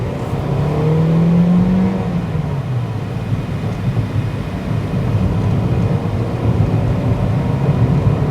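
A white 2012 Toyota Vios 1.5 TRD Sportivo with automatic transmission is driven hard, its engine note rising steadily and then settling into a loud, continuous drone of engine and road noise.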